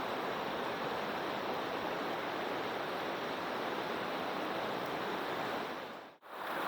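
Rushing water of the Hudson River in a gorge, a steady broadband roar that stays loud and even throughout with no voices, cut by a brief dip near the end.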